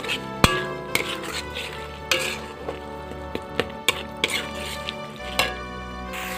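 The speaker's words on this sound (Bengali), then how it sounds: "আদা এবং রসুনটা ভালোভাবে কষানোর পর এবার আমি টমেটো কুচিগুলো এর মধ্যে দিয়ে দেবো। টমেটোটা দিয়ে ভালোভাবে এটাকে কষাবো।" Chopped tomatoes are sautéed with ginger and garlic in a pan. Sharp spatula knocks against the pan sound at irregular intervals over a soft sizzle, with background music throughout.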